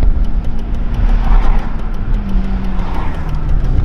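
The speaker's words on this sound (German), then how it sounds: "jetzt stell dir mal vor, dieser Sound, diese Power in einem W124." A Mercedes W124 fitted with a 500 engine runs loud and close, a dense steady engine roar with a slight dip in pitch partway through and no voices.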